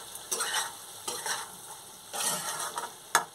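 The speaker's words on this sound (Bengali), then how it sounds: "আমি খুলে একটু নেড়ে দেবো, নেড়ে না দিলে নিচে লেগে যাবে।" Eggplant curry in a pan stirred with a spatula in a few separate bursts of scraping and sizzling, close and clear, with a sharp clink at the end.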